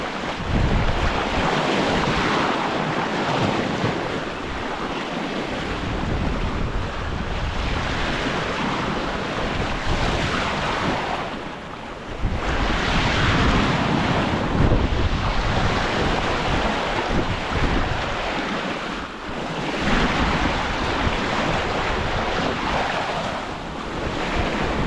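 Ocean waves rush and surge past a sailboat making 7 knots toward the Lombok Strait, with constant wind buffeting the microphone and swelling, washing peaks every few seconds.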